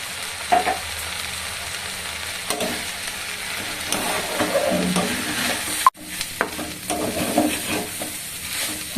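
Winter vegetables fry with chopped ginger and whole cumin in a pan, giving a steady close sizzle broken by scraping stirs and a sharp clatter near the middle.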